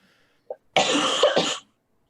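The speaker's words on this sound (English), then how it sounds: "I was coughing and figured you didn't want to hear it" One person coughs in a short, close burst of two or three rough hacks, preceded by a faint small throat sound, with silence around it.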